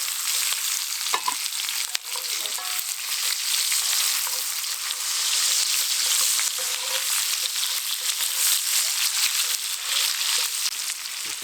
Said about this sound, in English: Get potatoes and onion and garlic going.